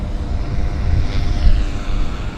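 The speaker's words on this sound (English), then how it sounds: "Westjet's taxiing out." A WestJet airliner taxiing out at Vancouver Airport produces a low, rumbling engine drone that swells slightly and fades, steady and fairly loud with no voices.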